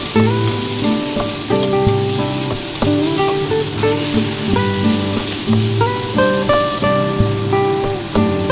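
Cabbage frying loudly in a pan for penne carbonara with shrimps, a dense continuous sizzle with periodic scraping stirs and clanks, near and without talk.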